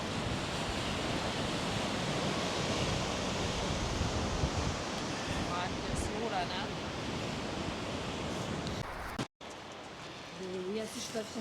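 Strong wind blows at a seaside resort, a loud, continuous roar of gusts and surf buffeting the microphone that cuts out abruptly, then returns with a voice speaking briefly near the end.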